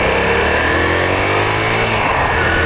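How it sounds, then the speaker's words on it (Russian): A Suzuki VS400 Intruder motorcycle accelerating on a road, its engine note climbing steadily in pitch as it gains revs and speed, loud and close with a continuous rumble and no voices. "Мотоцикл легко набирает обороты и скорость."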